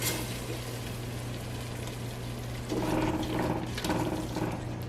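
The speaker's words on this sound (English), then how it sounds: "So now we're just gonna add this whole can of tomato sauce. And we're gonna mix it in the process." Tomato sauce from a can is poured into sausage soup and stirred, giving a steady wet gurgling and sloshing with a few louder swirling bursts over a constant low hum, with no talking.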